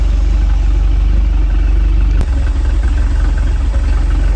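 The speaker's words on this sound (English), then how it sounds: "With that choke not working, it's gonna run a little rough when it's idling." A 1988 StingRay Supersport boat engine idling rough with a faulty choke, a steady low throbbing putter with an uneven pulse and a brief clatter partway through, heard close and alone.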